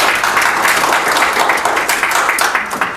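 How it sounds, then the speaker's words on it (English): Applause from an audience at a talk, a dense, steady wash of many hands clapping close by that holds evenly for about three seconds. "you can give him a round of applause"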